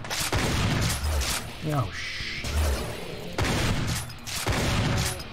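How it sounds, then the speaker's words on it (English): Loud shotgun blasts in the game Doom: Aliens, a few heavy booming shots spaced a second or two apart over constant game noise, with someone talking between them. "This is a nice shotgun."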